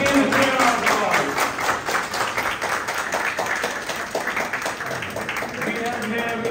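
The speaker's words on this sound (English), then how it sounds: "Once again, a clear applause." Audience applause at a legal gathering welcoming visiting district judges, steady dense clapping lasting several seconds at moderate volume, with a voice heard over it.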